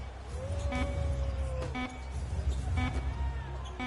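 End-of-quarter buzzer in an NBA basketball video game, a Philadelphia 76ers at Washington Wizards matchup, sounding as a short electronic tone over steady crowd noise and arena ambience.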